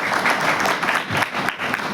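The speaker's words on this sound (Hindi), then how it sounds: "जबरदस्त तालियां डीटीएम के लिए होनी चाहिए।" Dense, sustained applause from a large audience at a Hindi-language business event honoring DTM, with continuous clapping filling the whole stretch at steady loudness.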